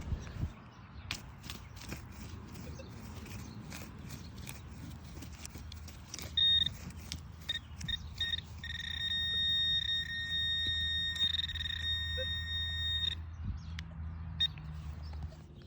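Faint electronic beeps pulse from a handheld Garrett AT Pro pinpointer metal detector amid outdoor rustling and ground scraping, with a sustained tone holding for a few seconds midway.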